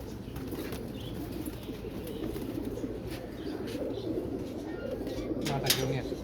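Pigeons coo at close range in low, repeated rounded calls over a soft background, with a brief flutter of wings near the end.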